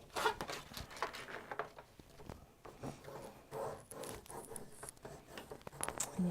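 A blade scores lines along the long edges of paper for a segmented box, making faint, close scratching and rasping strokes in short bursts against a quiet room.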